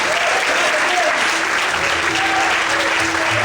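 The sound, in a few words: congregation applause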